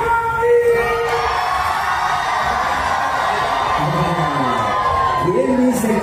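Festival crowd at an outdoor chamamé event in Chile Chico cheering and shouting, loud sustained whoops and yells of many voices with long drawn-out cries rising and falling.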